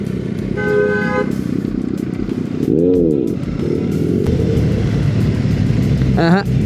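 Superbikes ride close by on a road near Alibag: loud, steady engine roar with rising and falling revs, a sustained horn toot early on and a sharp rev sweep near the end.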